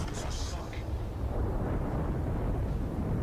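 Torpedo hit explosion in World of Warships: a deep, sustained low rumbling boom that fills the whole stretch, with a brief brighter burst near the start and steady heavy rumble continuing to the end.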